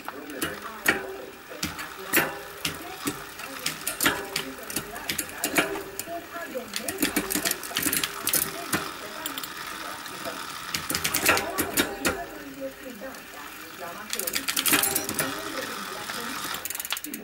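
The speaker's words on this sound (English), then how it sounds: "So here we go, going up the hill with my new sprocket." A bicycle climbs a hill on a new 34-tooth freewheel sprocket, giving a continuous rattle of chain and gears with irregular clicking and ticking close by, and some wind and road noise throughout.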